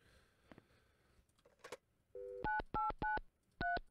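Phone dialing in the video game Mon Bazou: a single low tone, then four loud, evenly spaced keypad beeps in quick succession after a few faint clicks, with no talking.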